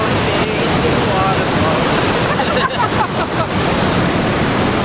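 Brush Creek Falls pours in a steady, loud broadband rush of falling water, continuous and close throughout with no voices over it.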